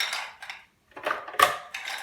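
Ice cubes tumble into a blender jar for a berry meal-replacement smoothie, making a few sharp, bright clattering bursts with short pauses between them, close and fairly loud.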